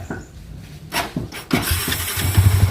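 A Yamaha Vixion motorcycle's electric starter cranks in a few short, close bursts before the engine catches and runs on with a rough, pulsing idle.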